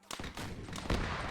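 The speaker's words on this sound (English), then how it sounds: "Now you have these cannons firing back, literally taking people's heads off." Cannons and gunfire from an Arma 3 War of 1812 operation crackle in a few quick, moderately faint bursts, with one heavier boom near the end.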